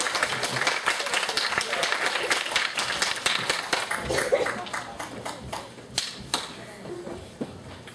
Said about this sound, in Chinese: 鼓掌给欢迎十二组报告